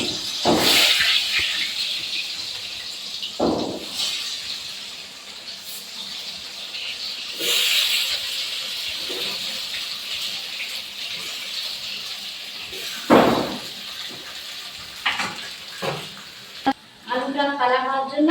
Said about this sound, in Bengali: এই তেলে আমি আলুটা ভেজে নেব